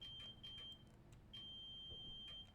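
Guard buzzer in the cab of a Class 700 electric train in Train Simulator 2022, giving a few short high-pitched beeps in uneven bursts over a low cab rumble, fairly faint.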